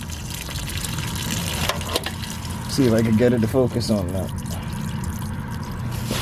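Salt water mixed with oil pouring and trickling out of an engine that had been submerged, a steady splashing stream with a brief gurgling burst midway, while someone talks over it.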